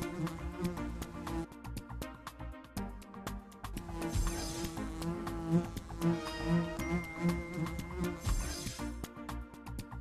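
Over several seconds, the Wild Kratts Creature Power game on iPhone and iPad plays a buzzing bee hazard, a low insect hum woven into a busy, rhythmic music track.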